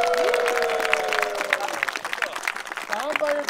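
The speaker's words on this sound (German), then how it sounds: "Auch nochmal einen Applaus für die Bergische Wohnmobile." Applause from a crowd at a camper and motorhome meetup in the Sauerland, in Germany. Clapping is steady and fairly close, with talk and a few raised voices heard through it.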